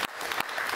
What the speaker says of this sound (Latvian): mēs noteikti Olgu atbalstīsim ar sirsnīgiem aplausiem.